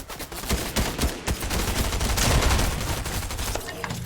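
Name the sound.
gunfire in a video game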